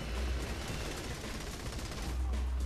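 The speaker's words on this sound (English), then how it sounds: "Everybody's just gunning each other down." Rapid, dense gunfire from several weapons in a Saints Row 3 shootout, a continuous loud barrage of overlapping shots with no pause.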